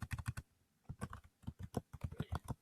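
Quiet close typing on a computer keyboard, entering text into a spreadsheet cell: a quick burst of keystrokes, a short pause, then a longer uneven run of clicks, with no voices.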